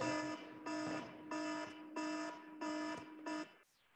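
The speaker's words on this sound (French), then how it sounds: "J'ai le minuteur qui a sonné," Timer alarm going off during a relaxation exercise session, sounding like a gong: five or six evenly spaced, sustained tonal beeps with rich harmonics, fairly faint, then stopping, no talk.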